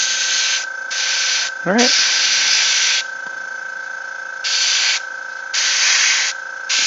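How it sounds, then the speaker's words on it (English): Airbrush spraying paint onto a miniature's hair in bursts of hissing air, several sprays of a second or so with pauses between, close and steady, while a voice briefly speaks once. "I'm going to spray the hair a nice color as well"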